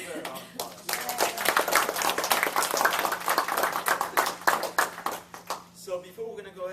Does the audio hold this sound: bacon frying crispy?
no